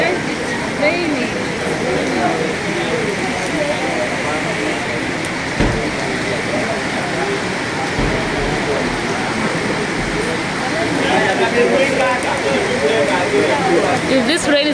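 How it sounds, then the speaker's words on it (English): Steady rain pours down in a continuous hiss, loud and close, with a few faint thumps and occasional talk mixed in. "Yes, it's raining."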